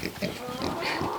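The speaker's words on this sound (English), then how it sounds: "Where'd the girl pig go?" A pig on a farm during barn chores, giving a short, close burst of low grunting and oinking, with other farm sounds behind it.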